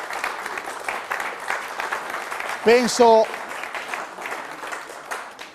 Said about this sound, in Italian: E grazie, facciamo un applauso ai nostri Vigili del Fuoco.